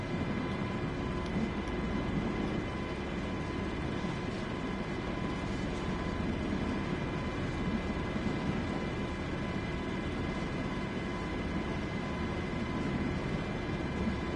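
An MH60 helicopter taxies in a flight simulator game, giving a steady, unbroken drone of turbine and rotor hum at a constant level with no talking.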